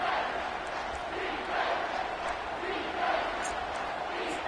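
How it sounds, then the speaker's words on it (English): A college football stadium crowd roars in a steady, dense wash of noise during a big moment of the game, loud and sustained throughout with no clear individual voices. "This crowd knows they have to bring it in big moments"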